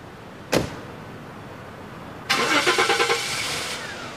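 A car departs from Westminster: a sharp door thud, then after a short pause an engine starts with a loud, rough burst and settles into a near steady running note, fairly close.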